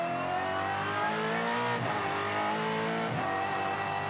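A Supercars race car engine roars at full throttle at Taupō, rising in pitch then dropping sharply at quick gear shifts, loud and close without pause.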